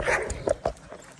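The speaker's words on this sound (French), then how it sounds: "combat de chien" Dogs fight outdoors during an off-road electric scooter ride, giving a quick run of snarls, yips and whimpering barks, fairly close and lively.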